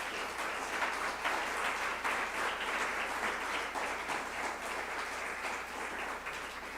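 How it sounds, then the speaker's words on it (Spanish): Church congregation giving a loud, sustained round of applause, dense steady clapping from many hands filling the room with no voices over it. "Pues dale un fuerte aplauso al Señor."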